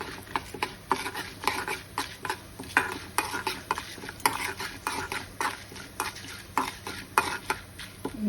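Coriander seeds, cumin and chana dal crackle in a hot pan while a spoon scrapes and stirs them in quick, irregular strokes, close and clear over a soft sizzle.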